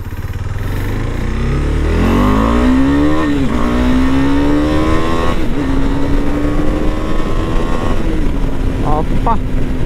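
KTM Adventure 390 motorcycle cruising at speed, its steady engine drone rising in pitch as it pulls toward about 100, with heavy wind rush throughout.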